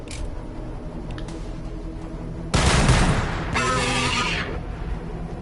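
Heavy fire support barrage in the Warhammer 40k Battlesector strategy game, loud dense bursts of gunfire and blasts erupting after a quieter stretch of battle ambience, alone.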